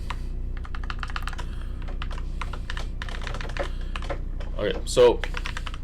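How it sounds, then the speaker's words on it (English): Rapid, continuous clatter of computer keyboard keys as code is typed, steady and close throughout, with someone briefly speaking near the end. "So let's try to type this out."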